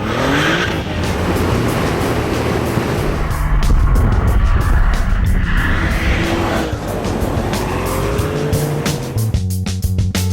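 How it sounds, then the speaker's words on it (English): Ruf R-Turbo sports car, based on the Porsche 996 Turbo, driving hard, with loud engine roar, rising and falling pitch through gear changes and a brief tyre squeal, near and continuous. "Our flagship is the R-Turbo that is based on the 996 Turbo."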